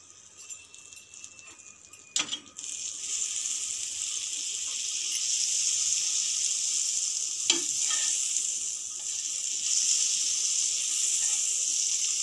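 Butter sizzles on a nonstick griddle, a steady bright hiss that swells after a couple of clicks and taps, continuing evenly at close range without any talk.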